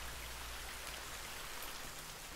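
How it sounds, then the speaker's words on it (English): Steady rain hisses evenly across the scene in the video game The Forest, a soft, continuous wash of drops with no voices and no breaks, low in level throughout. "It's raining."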